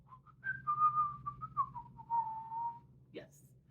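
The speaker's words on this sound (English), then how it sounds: "Can you whistle?" A person whistles a short wavering melody, a few clear rising and falling notes close to the mic against a quiet background, ending with a brief voice.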